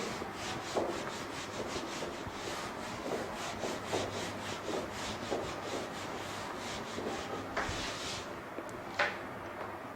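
Writing being rubbed out during a trigonometry lesson, a faint continuous rhythmic scrubbing with short strokes, close and quiet, no talking.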